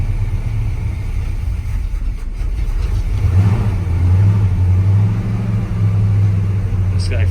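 An old farm truck engine turns over and runs, a low rumbling idle that swells into a revving surge midway and holds a throaty drone, close and loud.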